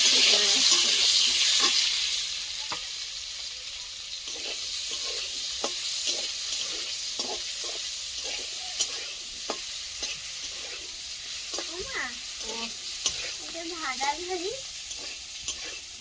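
Potatoes frying in leftover fish oil, starting with a loud hiss and sizzle for about two seconds, then settling into a quieter crackle broken by scattered clinks and scrapes of stirring.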